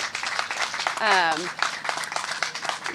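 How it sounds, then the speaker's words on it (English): A round of applause for a man who has just spoken about local history at a community park gathering, with dense clapping running throughout under voices, including a brief vocal cheer. "Everyone give him a round of applause."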